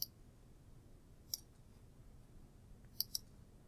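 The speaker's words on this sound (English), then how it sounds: "a sound effect, which stands for the mouse being clicked" Faint, sharp mouse clicks sound alone in near silence: a single click, another later, then a quick pair close together.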